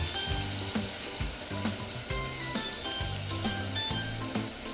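A freshly ground ginger, garlic and coriander paste sautés in a pan with softened tomatoes, giving a soft steady sizzle with periodic scraping and stirring clinks of a spoon against the pan.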